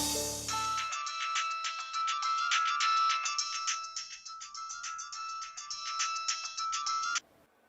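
A mobile phone ringtone for an incoming call plays a bright, repeating electronic melody for about six seconds, loud and close, then stops abruptly, after a short burst of other sound at the very start.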